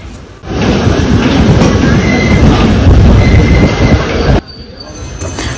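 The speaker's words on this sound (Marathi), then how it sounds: "ट्रेन आता थांबली आहे सफाळे स्टेशनला" Bandra Vapi Express rolling into Saphale station: a loud, steady rumble of rail cars with squealing wheels and a faint high whine, cutting off abruptly near the end as the noise drops to quieter ambience.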